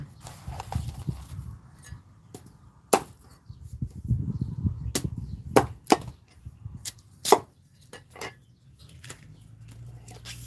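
Sweet bamboo shoots chopped on a board, sharp irregular knife chops landing one by one between pauses, close and loud, over a low rumbling background.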